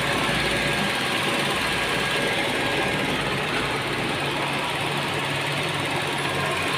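A 2002 Soluna GLi sedan engine idles steadily with a constant low hum and faint mechanical ticking, close by and uninterrupted, with no talking.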